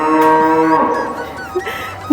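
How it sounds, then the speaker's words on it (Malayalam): A cow moos in a long, drawn-out low call with clear tonal harmonics, fairly close, at a Hindu temple in DR Congo, followed by brief quieter rustling and a short bump at the end. "ഇവിടെ പശു ഉണ്ട് കേട്ടോ ഇതിൽ നമുക്കിത് രണ്ട് മൂന്ന് പശു ഉണ്ട്"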